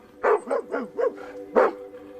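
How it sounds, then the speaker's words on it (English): A dog barks five times close by, four quick barks in a row, a short pause, then one more. "he hears the family dog, Shasta, barking and responds by barking back"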